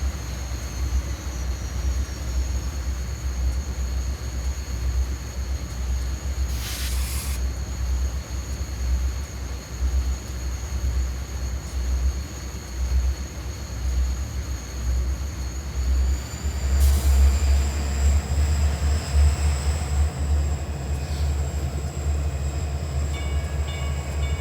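A railroad crossing signal in Train Simulator on Donner Pass, with a Union Pacific GP50 locomotive: steady ringing tones sit over a low, constant diesel rumble, the sound swelling and brightening partway through.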